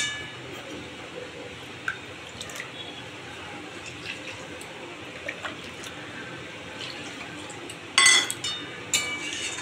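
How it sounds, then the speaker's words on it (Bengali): Water is poured into a pan of tangra fish curry cooked in mustard sauce, giving a faint wet splash and trickle against a low kitchen background, with a brief louder burst of pouring near the end. "এবার আমি এতে জল দেব।"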